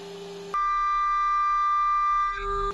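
A 2.5 kW ATC spindle on a CNC mill makes a steady high tonal whine with layered harmonics while it cuts 10 mm deep at 3000 mm per minute. The whine starts abruptly after a brief, different tone and shifts slightly near the end.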